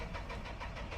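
A narrowboat diesel engine, just bled after refuelling, runs steadily with a rough, even low rumble and faint rhythmic knock, heard alone and fairly quiet.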